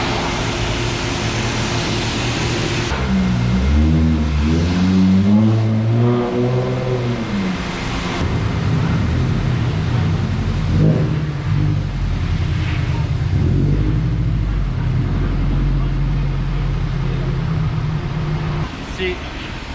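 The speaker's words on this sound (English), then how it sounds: "They actually gave us new air dryers with this wash, and they're not bad" Touchless car wash air dryers roar steadily around a Toyota GT86, a loud broadband blast with a low hum, while a car engine note rises and falls partway through and a voice speaks intermittently underneath.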